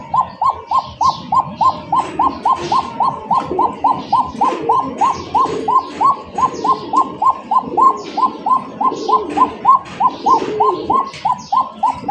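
Fancy Lahori pigeons cooing in a steady run of soft, throaty coos repeating rhythmically at close range, with faint chirps in the background and no talk.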